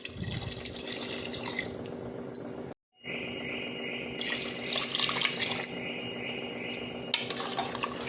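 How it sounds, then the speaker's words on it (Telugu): Water pours steadily into a metal cooking pot for chicken biryani, with a splashing, rushing stream, broken by a brief pause and a few faint clinks of utensils. "2 గ్లాసులు వాటర్ వేసుకుంటున్నానండి."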